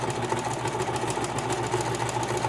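A sewing machine stitches a dress hem with a fast, even mechanical whir and rapid needle ticking, close and moderately quiet.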